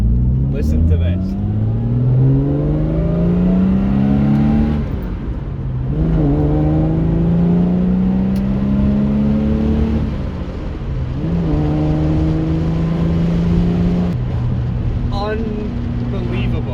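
A £295,000 Jaguar E-Type Reborn, a restored classic, revs close up while being driven, its smooth engine note repeatedly rising and falling through the gears in a loud, continuous run.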